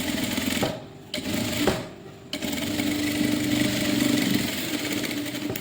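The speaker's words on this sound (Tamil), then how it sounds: "இதுக்கு ஓரத்துலேயே தையல் போட்டுட்டே வரணும்." Sewing machine stitching along the edge of a blouse lining, a steady close mechanical whirr that stops briefly twice before running continuously to the end.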